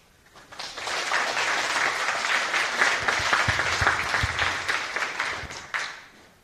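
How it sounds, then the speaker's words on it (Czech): Audience applause at a national business competition final, a dense burst of clapping that swells quickly, holds steady for several seconds and then fades out, with no talking over it. "Potlesk."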